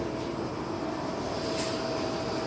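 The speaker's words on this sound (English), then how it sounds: "And now the motor is on, acting as propeller." A small DC motor spins the propeller on a scaled-down drone model, producing a faint, steady whir with an even tone throughout.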